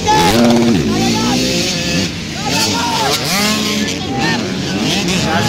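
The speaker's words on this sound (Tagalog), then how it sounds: "Pinapandar ang motor." 85cc motorcycles rev hard during a dirt race heat, engine pitch rising and falling repeatedly as they accelerate, loud and close with an excited commentator talking over them.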